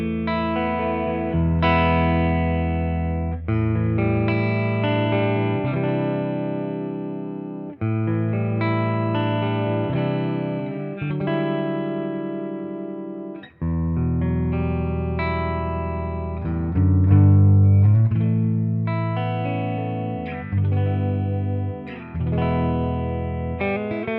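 A clean guitar tone played through a Boss Katana 50 EX Gen 3 amp, with chords and single notes ringing in phrases, a light shimmer of effects and reverb, steady and fairly loud without any voices.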